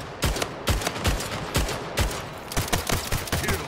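Bursts of assault rifle fire in the video game Splitgate, loud sharp shots in uneven clusters, some rapid, with game effects behind.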